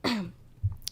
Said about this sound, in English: excuse me, I'm still getting over a cough